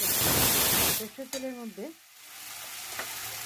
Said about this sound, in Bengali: সর্ষের তেলের মধ্যে আমি জিরে, তেজপাতা, শুকনো লঙ্কা সব ধুয়ে আমি ফোড়ন দিয়েছি তেলের মধ্যে।